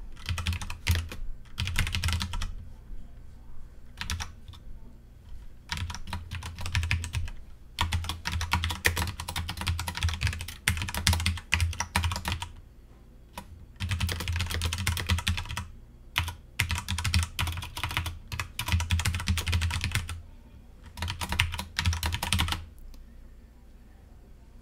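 Rapid, close typing of Go test code on a computer keyboard, coming in dense bursts separated by brief pauses, with no talking.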